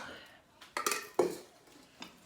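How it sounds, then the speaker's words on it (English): A spoon clinks and scrapes in a bowl as asparagus fritter batter is stirred, a few quick close knocks and scrapes at a low level. "Mix this around."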